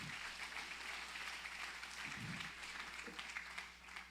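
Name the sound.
congregation applauding God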